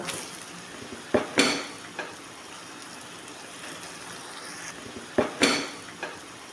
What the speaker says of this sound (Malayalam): ഉപ്പും മഞ്ഞൾപ്പൊടിയും കൂട്ടി വെച്ച ചിക്കൻ ഇതിലേക്ക് ഇടുക